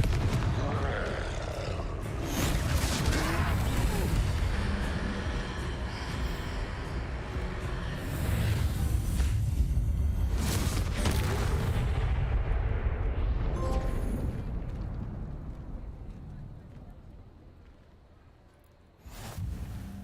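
Confringo spell blasts in Hogwarts Legacy, fought against a troll, rumble and boom continuously at close range, a dense, heavy barrage that fades toward the end before a final thump.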